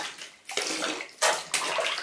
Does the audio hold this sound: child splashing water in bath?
yes